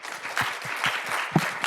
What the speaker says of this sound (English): Let's give all the speakers another round of applause.